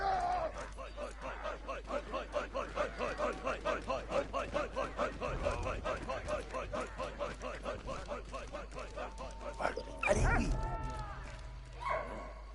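A dog yips and whimpers in rapid, repeating bursts through most of the stretch in the World War I game Valiant Hearts, with game music beneath and a louder crash near the end.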